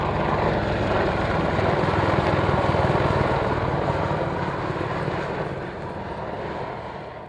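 An Apache helicopter comes in to land, giving a loud, steady rotor and engine roar that holds close and then eases off slightly toward the end.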